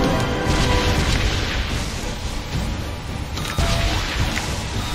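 A bomb explodes in the Roblox game Tornado Alley Ultimate. A loud, sustained roaring boom fills the whole stretch, with a fresh blast near the end, and no clear voices.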